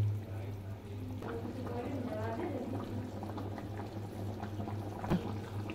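Pakoras frying in hot oil over a high gas flame, a steady bubbling sizzle with crackles and a sharper pop near the end, heard alone and fairly close.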